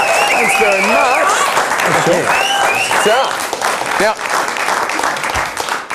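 Studio audience applauding and cheering for comedian Sean Dooley on a live television show, loud and sustained under an excited announcer's voice and whoops.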